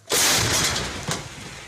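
A captured artillery gun fires a single loud shot up close, a sharp blast followed by a long rolling decay and a second crack about a second later, with no talk.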